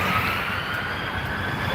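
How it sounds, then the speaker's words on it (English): Ambulance siren sounding steadily and fairly loud throughout, with a sustained wailing tone over low traffic rumble, no voices. "it's just an ambulance."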